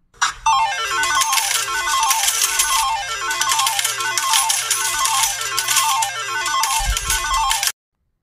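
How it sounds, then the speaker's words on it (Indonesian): A mobile phone's message-notification ringtone plays loudly and close: a repeating descending electronic melody that cycles several times for about seven seconds, then cuts off abruptly. "Tiba-tiba ada pesan masuk di HP-nya."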